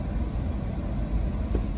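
Slow, jammed road traffic on Christmas Day in Goa, on the route to Old Goa, a low continuous rumble of idling and crawling vehicles with a faint brief sound near the end.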